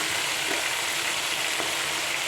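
Tomato, onion and coconut pieces sizzle steadily in a hot pan for a mezhukupuratti stir-fry, a continuous close frying hiss with faint stirring clicks and no voices.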